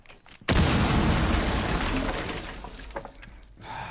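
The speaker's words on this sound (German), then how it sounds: "Achtung, ich sprenge." A breaching charge blows a hole through a wall in Rainbow Six Siege: a sudden loud blast with a long rumbling, debris-filled decay, followed by fainter scattered sounds as it fades.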